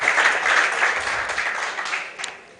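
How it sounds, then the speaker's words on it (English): An audience in a conference hall applauds, a dense wash of clapping that starts full and slowly thins and fades over a few seconds. "Je crois qu'on peut encore applaudir cette famille qui a eu le courage de venir faire le témoignage."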